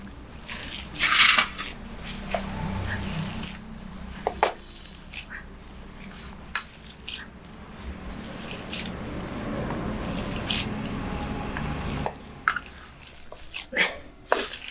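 Ground urad dal paste is hand-mixed with chopped onion and chilli, giving soft, wet squishing and slapping sounds in irregular bursts, close and moderately loud, with occasional sharper pats and small clicks.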